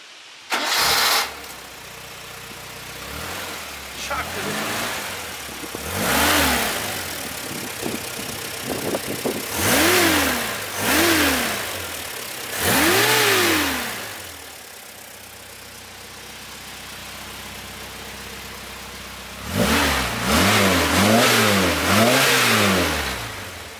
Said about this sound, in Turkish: İsterseniz şimdi aracımızın motorunu bir çalıştıralım.